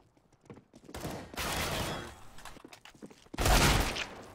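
Desert Eagle gunfire in a Counter-Strike round on the Cache map, with a few sharp close shots followed by loud bursts of firing and commotion, and a heavy blast near the end.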